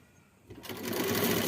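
A sewing machine starts up while stitching a blouse, a short burst of fast close mechanical whirring that kicks in after a quiet moment and holds steady to the end.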